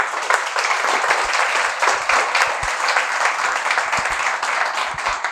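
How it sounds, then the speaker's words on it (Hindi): Loud, dense applause from an audience for two students who cleared Air Force selection groups, sustained evenly throughout with no talking over it. "हमारे साथ में आदित्य और आकाश परमार, दोनों के लिए जोरदार तालियां।"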